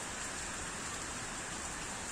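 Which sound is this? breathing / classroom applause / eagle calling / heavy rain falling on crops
heavy rain falling on crops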